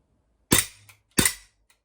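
Two sharp, loud blank shots from a Glock pistol, about two-thirds of a second apart, each with a short decaying tail in an otherwise quiet space.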